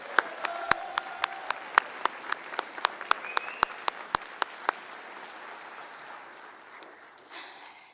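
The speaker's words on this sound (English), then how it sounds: "give her a round of applause" A small group claps for a few seconds at an Air Force ROTC commissioning ceremony, individual claps sharp and distinct, fading into quiet room noise.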